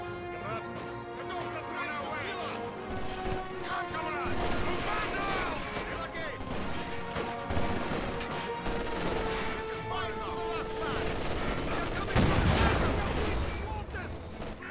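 LMG fire in the Company of Heroes 2 battle game, rapid bursts of automatic gunfire mixed with other battlefield shots and crashes, dense and layered over sustained background tones, with a heavy impact near the end.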